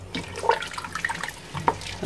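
Water is poured into a cooking pot being readied for white beans in a home kitchen, making a short, steady splashing pour with a few brighter sloshes close to the microphone.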